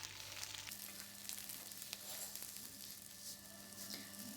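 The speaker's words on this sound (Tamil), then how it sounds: "இப்போ கட் பண்ண வெங்காயத்தை சேர்த்து நல்லா வதக்கிக்கோங்க." Chopped onions sauté in hot oil for a hotel-style plain parotta salna, giving a soft, continuous sizzle with faint stirring scrapes and a low steady hum in the background, fairly quiet throughout.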